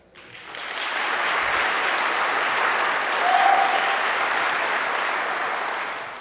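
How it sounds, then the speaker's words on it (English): Loud, sustained applause from a large conference audience at a tech event, clapping hard and steady for about six seconds with a brief swell midway, dense and close. "you need to clap really, really, really hard"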